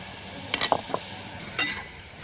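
Ambadi flower petals and grated jaggery being sautéed in a kadhai for chutney, a low sizzle broken by a few quick scraping stirs of a spoon, close and fairly loud, with no talking.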